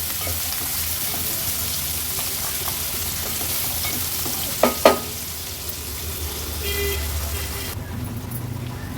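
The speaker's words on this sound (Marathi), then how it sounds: "गॅसची फ्लेम लो करून कांदा शिजवून घेते मी आता" Chopped onion frying in oil over a low gas flame for a mixed green pea vegetable dish, a soft continuous sizzle with light stirring scrapes and a couple of sharp clinks midway.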